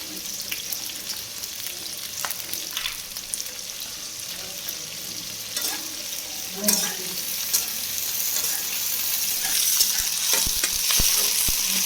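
Cumin and chili frying in hot oil give a steady close sizzle, with occasional stirring scrapes and clinks and brief water splashes.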